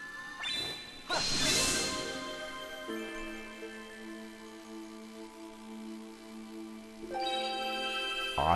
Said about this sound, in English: Once you have charged your blade, face the crest and swing your sword to send out a powerful skyward strike.